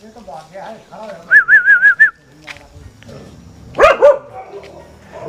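Stray dogs bark at a Tibetan Mastiff puppy outdoors, loud close barks in short bursts, with a person whistling and talking between them.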